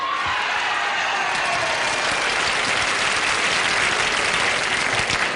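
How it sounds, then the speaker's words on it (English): A 1970s television game show studio audience bursts into sustained, loud applause that fills the room evenly from start to finish, with no one talking over it. "they're applauding the correct answer"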